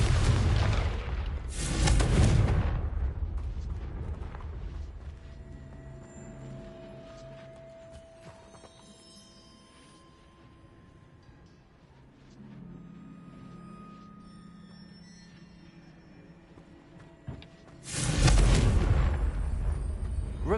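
Confringo spell explosions in the Hogwarts Legacy video game, heavy booming blasts at the start and again near the end, with rumbling lower-level game sounds filling the stretch between.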